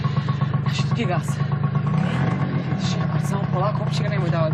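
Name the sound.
motorcycle engine running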